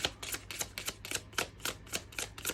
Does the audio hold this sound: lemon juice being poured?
no